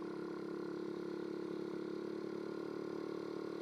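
A Honda Urban Express scooter engine held at roughly 10,000 rpm gives a steady, buzzing mid-pitched drone that stays even and unbroken throughout, with no voices.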